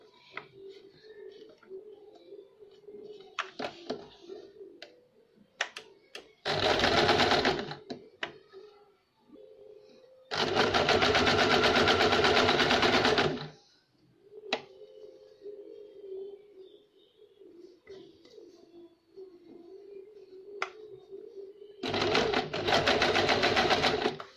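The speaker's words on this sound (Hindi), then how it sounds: "फोल्ड करने के बाद हम यहाँ पे थोड़ा सा किनारे पे सिलाई देंगे।" A sewing machine stitches along a folded neckline edge of a frock in three loud sustained runs, separated by quieter clicks, handling sounds and brief pauses.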